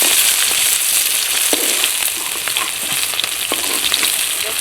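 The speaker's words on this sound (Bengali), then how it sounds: "এবার মাছগুলো ভাজা করার জন্য কড়ার মধ্যে দিয়ে দিচ্ছি।" Silver carp pieces fry in hot oil in a wok, with a continuous bright sizzle and crackle and a few soft scraping knocks, close and steady with no talking.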